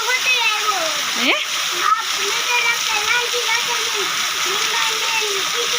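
Heavy rain pours down in Bhesan village, a steady dense hiss and splatter running throughout while someone talks over it.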